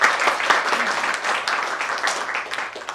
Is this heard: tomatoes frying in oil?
no